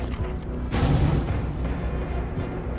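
A boss monster in the Deep Rock Galactic video game lets out a deep, booming roar that swells suddenly and loudly, then rumbles on heavily for a couple of seconds with no talk.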